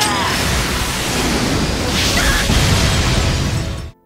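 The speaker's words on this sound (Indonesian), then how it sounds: "setelah ledakan, Bakugo mendekati Midoriya dan menantangnya untuk menggunakan bakatnya dengan kekuatan penuh" A loud, dense explosion roars through an anime fight scene, a sustained broadband blast that holds steady for several seconds before cutting off abruptly.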